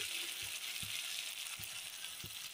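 Soft, steady sizzle of a poppy seed and cashew spice paste sautéing in a pan, faint frying hiss with a few light scraping stirs at intervals.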